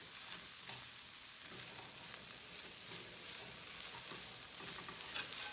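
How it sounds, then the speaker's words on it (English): Broccoli stir-fried in a hot pan for a beef and broccoli dish, giving a steady, close sizzle with light scraping and tossing from stirring throughout, no voices. "Just get a little stir fry on the broccoli."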